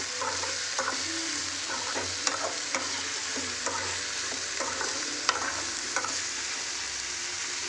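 Eggplant sautéing in oil in a pan for a Tamil eggplant thokku, a steady close sizzle with intermittent stirring scrapes and light clicks of a utensil throughout, no talking.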